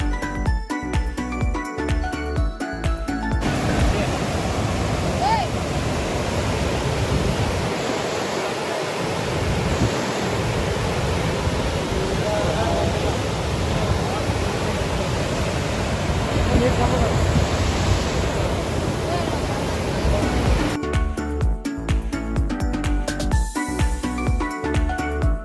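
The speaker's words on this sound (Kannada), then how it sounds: "ಈ ಫಾಲ್ಸು ಬಸವಸಾಗರ ಅಣೆಕಟ್ಟಿನ ನೀರನ್ನು ಹೊರಗೆ ಬಿಟ್ಟಾಗ ಈ ಥರ ವ್ಯೂವನ್ನು ನಾವು ನೋಡ್ಬೋದು." Steady roar of the Chhaya Bhagavati waterfall near Narayanapura in North Karnataka, fed by water released from the Basavasagar dam, a dense continuous rush filling the scene for most of the stretch, with brief other sounds at the start and end.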